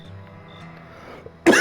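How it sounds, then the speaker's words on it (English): One loud, harsh cough bursts out near the end, close to the microphone, after a stretch of quiet low hum from a survival game. "I'm not purposely meaning to cough in your ear like that."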